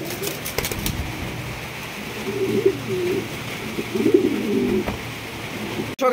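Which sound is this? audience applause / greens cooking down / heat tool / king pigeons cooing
king pigeons cooing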